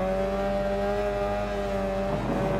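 A vintage superbike engine in the Ride 4 racing game holds a deep, loud, steady drone for about two seconds, then its tone shifts briefly near the end.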